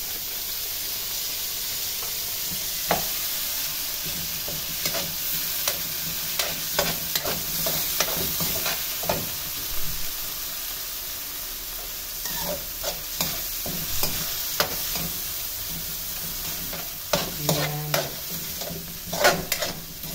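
Frozen mixed vegetables, crab stick and hot dog fry in a pan with a steady close sizzle, broken by scattered clinks and scrapes of stirring, with no talk.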